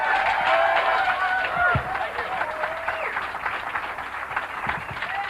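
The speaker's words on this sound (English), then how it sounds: "Nice round of applause, Rob Jacobson." A studio audience at a 1987 television comedy show applauds after a stand-up set: sustained, full clapping, louder at first and then gently fading, with a few whoops and voices mixed in.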